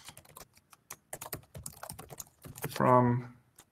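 Rapid clicking keystrokes on a computer keyboard, close and crisp, tapping in quick irregular bursts with a brief spoken word near the end.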